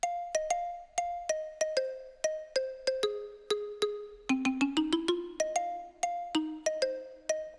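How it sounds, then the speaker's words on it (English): A bright synth pluck with reverb plays a chill summer melody in regular bouncing notes, each ringing briefly into a soft tail, the line stepping down and then back up, alone without voices. "So the things that I added was this little pluck"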